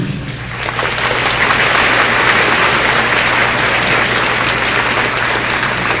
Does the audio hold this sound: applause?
yes